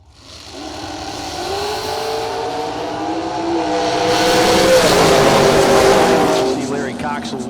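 A drag racing car on a 2015 American chassis, entered by Cobb's Automotive, roaring down the strip at a Colonial Classic drag event, loud rising engine note with tire noise, under a track announcer's voice.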